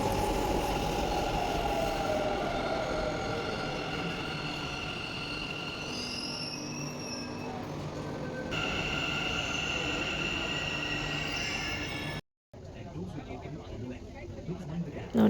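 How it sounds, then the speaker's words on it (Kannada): A metro train runs from Jayanagar towards Navrang with a steady rumble, wheel noise and faint squeal throughout, and people talk over it. A brief drop near the end sounds like a cut. "ಮೆಟ್ರೋ ಹತ್ಕೊಂಡು ಹೊರಟ್ವಿ"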